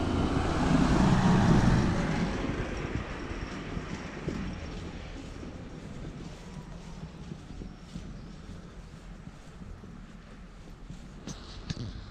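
A tractor's heavy engine rumbles loudly nearby at first, then fades steadily as it moves away, leaving a low, continuous drone.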